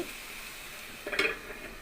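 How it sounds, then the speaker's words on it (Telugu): Onion pieces sauté in a pan for a bitter gourd curry, a faint low sizzle with one brief burst of spatula scraping midway, close and quiet. "ఉల్లిపాయ ముక్కలు రెండు నిమిషాలు మగ్గించుకుందామండి"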